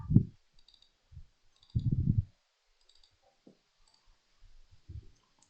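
Computer mouse clicks while saving a file in Photoshop, a few soft clicks spread out with quiet gaps between them, close and alone.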